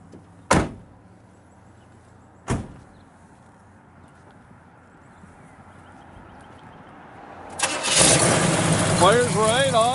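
A 1971 Chevrolet Nova SS with a mild-built 454 V8 comes after two sharp door-like thumps: the starter cranks and the engine fires into a loud, rough idle up close.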